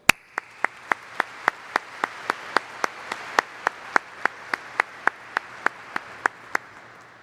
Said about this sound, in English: So please, a round of applause for everyone who made today possible.